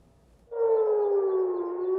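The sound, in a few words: air raid siren wailing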